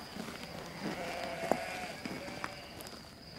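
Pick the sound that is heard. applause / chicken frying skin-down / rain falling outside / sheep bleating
sheep bleating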